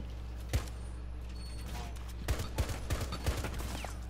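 Gunfire in Rainbow Six Siege Operation Para Bellum: one sharp shot, then a quick burst of four or five close, punchy rounds over a faint background hum, with no talking.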